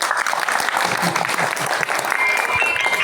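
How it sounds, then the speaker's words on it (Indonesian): An audience at a spiritual gathering in a pendopo applauds, dense continuous clapping filling the whole few seconds at even loudness, with faint voices mixed in. "Giring tepuk tangan untuk kita semuanya."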